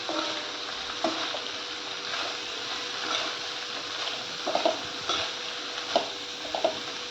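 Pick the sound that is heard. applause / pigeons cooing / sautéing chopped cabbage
sautéing chopped cabbage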